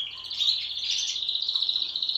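Small birds chirp and twitter continuously, high and bright, a quick rapid trill close by against a quiet background.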